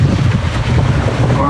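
Strong wind gust buffeting a sailboat running downwind, loud continuous rushing and microphone rumble, with a voice speaking underneath.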